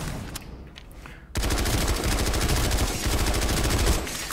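TR Carbine firing from the hip in a video game, a few scattered shots and then a sustained, loud rapid-fire automatic burst running to the end with no talking.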